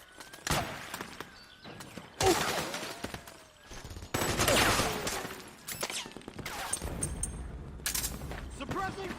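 Metal Gear Solid 4 gunfire in a chaotic battle, with repeated loud bursts of automatic fire, crashes and shattering mixed with shouted voices, intermittent and close.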